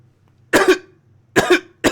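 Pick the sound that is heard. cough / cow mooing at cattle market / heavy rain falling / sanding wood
cough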